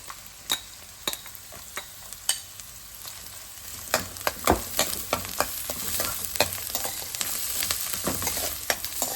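Chopped onion frying in a pan for moong dal, a steady close sizzle with frequent sharp clinks and scrapes of a spoon stirring, alone without talk.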